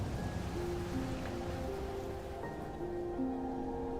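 Soft rain patters steadily from a drifting rain cloud in the survival game Enshrouded, a faint, even hiss under quiet sustained musical tones, with no speech.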